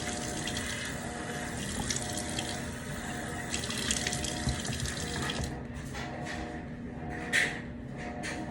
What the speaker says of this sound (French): tout ce qu'il reste à faire, c'est de se rincer le visage